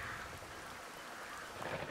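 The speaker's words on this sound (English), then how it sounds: "Oh, it's raining!" Soft, steady rainfall in the VR game Sightline: The Chair patters continuously at low volume, a gentle hiss with a slight swell near the end and no speech.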